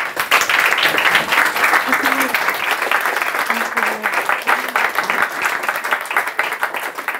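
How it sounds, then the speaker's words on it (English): A concert audience claps to welcome a violinist before a classical Turkish music recital, loud sustained applause from a full room with scattered voices and a brief spoken word rising over the clapping. "Please give a round of applause for Audrey and enjoy tonight"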